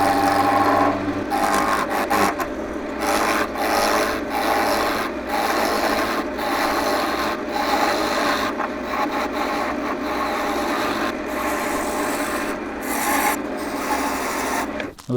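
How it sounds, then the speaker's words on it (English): A spindle gouge cuts into spinning wood on a lathe with a loud, continuous rasping hiss over a low motor hum, steady and close for the whole stretch. "So I'm just going to use the spindle gouge"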